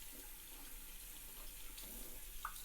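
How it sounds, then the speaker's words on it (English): Tap water running into a sink as a box turtle is held under the stream and washed; a faint, steady hiss of flowing water throughout, with no talking. "Just gonna lightly put her under some water."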